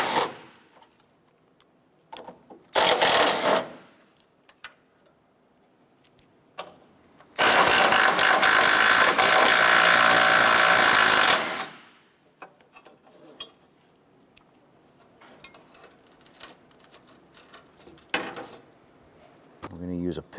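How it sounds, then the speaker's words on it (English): A 13mm socket on a ratchet removes the side bracket bolts of a 2006-2013 Chevrolet Impala during radiator cooling fan replacement. Two loud bursts of rapid rattling, one short and one about four seconds long, are separated by quiet workshop handling. "Using a 13mm socket, we're going to go ahead and remove the bolts securing this side bracket on the side."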